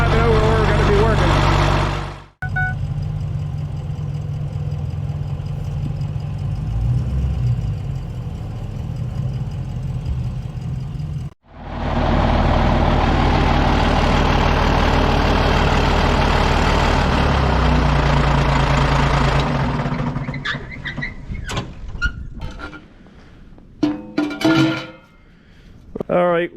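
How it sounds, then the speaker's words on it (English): A CAT 977 track loader engine idles as it warms up, a deep steady rumble interrupted by two brief cutoffs, then fading into scattered clanks and knocks. "We'll let her warm up here a few minutes and drive it over where we're going to be working."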